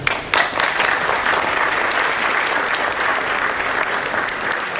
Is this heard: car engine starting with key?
no